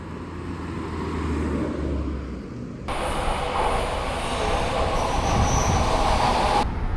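An Odakyu Railway train passes through Sangubashi Station, with a steady rumble of wheels on rails that turns into a louder, brighter rush with squealing partway through, close by and with no voices.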